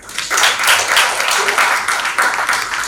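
A crowd applauds continuously, a dense wash of many hands clapping, swelling in after a brief quiet start and staying loud.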